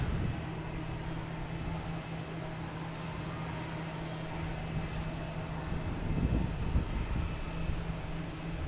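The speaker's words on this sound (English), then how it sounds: "We have another plane." A jet airplane at Boston Logan Airport rumbles steadily at a distance, a low broad roar with a faint whine, swelling slightly toward the end under wind and outdoor ambience.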